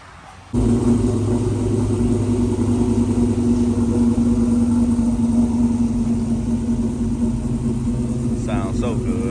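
A Buick Regal with a freshly swapped engine runs steadily at idle, a loud, close, continuous low rumble that starts abruptly after a brief quiet moment and holds through to the end.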